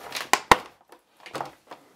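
A new graphics card, from a second Titan build, is popped out of its plastic packaging: two sharp crackling snaps followed by softer rustles and light clicks of the plastic tray, close and alone.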